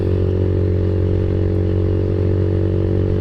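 Kawasaki Z125 motorcycle pulling away, its small single-cylinder engine droning steadily and loud at close range, no talk.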